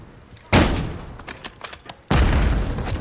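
Two loud bursts of gunfire from a military shooter video game, with thick booming blasts and a stretch of scattered shots between them, close and harsh.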